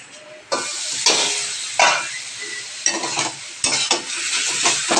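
Taro leaves (kochu shak) cook in a pan in a home kitchen, with steady sizzling broken by several loud scraping stirs, heard close up and with no speech.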